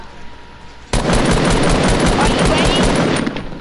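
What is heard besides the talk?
gunfire from Fortnite video game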